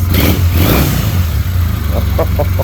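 A stock 2006 Triumph Bonneville T-100 motorcycle engine revs loudly up close, a steady low engine drone rising and falling, with a few short voice sounds near the end.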